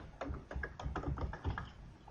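Quick typing on a computer keyboard while entering a variable name in SPSS, a close, quiet run of about eight crisp key taps in an uneven rhythm with no talking.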